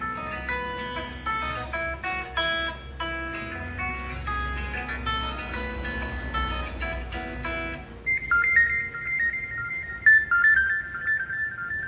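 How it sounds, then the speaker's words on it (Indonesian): A bright, melodic phone ringtone plays from the small stereo speakers of a Xiaomi Redmi Note 11 smartphone, busy chiming notes that give way to a simpler repeating tone near the end. "Kita coba untuk memutar ringtone ya."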